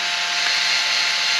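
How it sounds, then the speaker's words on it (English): A cordless drill spins a high-speed reamer in a workshop, giving a steady, loud, continuous high-pitched whirr and grind with no break in the short burst. "Now the cordless drill will do it at high speed."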